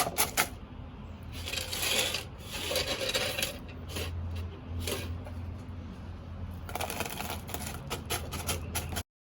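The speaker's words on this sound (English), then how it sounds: "so now that we have the gravel into the container" Gravel poured into a plant container for drainage, bursts of rattling, clattering stones separated by short pauses, fairly close and steady, ending abruptly.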